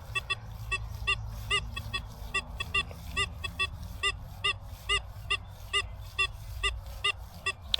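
Repeated electronic beeping tones from a Deus 2 metal detector with HF coil, in quick, uneven bursts, honk-like and warbling, over a low background rumble.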